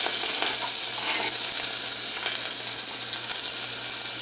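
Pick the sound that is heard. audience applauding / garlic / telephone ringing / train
garlic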